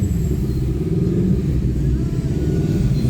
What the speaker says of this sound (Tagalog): Oh, traffic doon sa kabila.